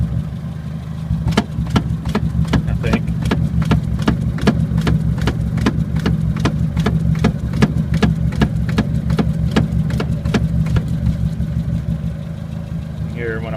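A 1980 Chevy Luv truck engine runs steadily at idle, close and loud, with a rough even rumble and a regular ticking pulse throughout.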